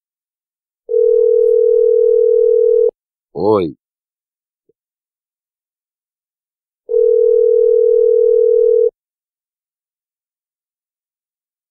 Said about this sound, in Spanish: Vamos a estar llamando a esa persona.